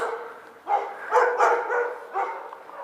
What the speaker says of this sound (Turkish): Arkadaşlar, köpekleri görüyorsunuz.